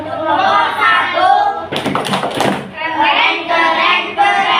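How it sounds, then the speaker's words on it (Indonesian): Schoolchildren in a classroom lesson break into a short rhythmic clapping cheer, a quick burst of loud claps between stretches of a teacher's speech. "Mari dulu ya kita kasih tepuk keren dulu ya."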